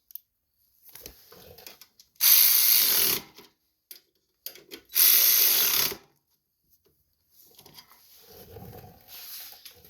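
A ratchet wrench tightens carburetor bolts on a Snow Devil snowblower's 208cc engine, with two loud bursts of rapid ratcheting separated by quieter clicks and handling noises.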